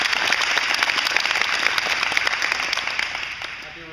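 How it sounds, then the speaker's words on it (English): Applause from a crowd at a women's college tennis team championship, a broad steady wash of clapping lasting several seconds and fading slightly toward the end. "let's give them a round of applause"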